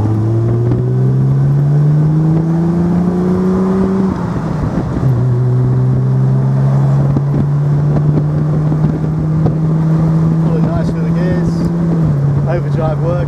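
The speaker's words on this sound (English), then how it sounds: "we'll just give you a buzz up the road in this lovely little TR5" A 1968 Triumph TR5 2.5 convertible drives up the road, its engine droning loud and close as it climbs through the revs, with clear gear changes and wind noise buffeting throughout.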